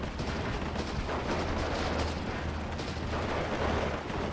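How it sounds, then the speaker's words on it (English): Pak 40 anti-tank gun firing APCR shot in Steel Division 2 multiplayer, heard as dense, continuous battlefield gunfire and rumbling explosions with steady low drone throughout, no distinct single shot standing out. "Pack 40 fires an APCR shot."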